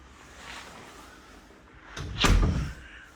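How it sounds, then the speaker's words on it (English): A front door of a half duplex house in Wylie, Texas swings open with a single fairly loud thud and rattle after a few quiet seconds of room tone. "Walk in the front door here."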